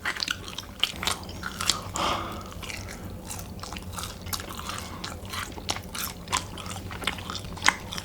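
Someone eats spicy mala Chinese dishes such as malatang, mala xiang guo, guo bao rou and dry-fried shrimp, with close, steady crunchy bites and wet chewing repeating over several seconds in a quiet room.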